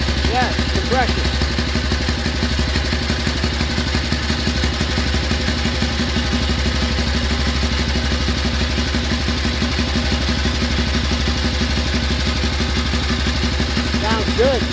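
A Hungarian motorcycle engine idles close by with a steady, even, clattering chug, holding a constant loud rhythm throughout with little change in pitch.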